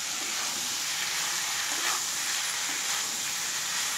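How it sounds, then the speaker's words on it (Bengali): Goat head-skin pieces fry with garam masala in a pan, a steady moderate sizzle with soft stirring scrapes, heard alone without talk. "এবারে এইভাবে আমি কিছুক্ষণ চালাবো আর ভালোভাবে ভাজবো।"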